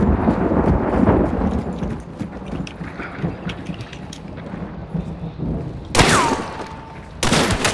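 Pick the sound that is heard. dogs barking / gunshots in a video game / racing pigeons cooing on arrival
gunshots in a video game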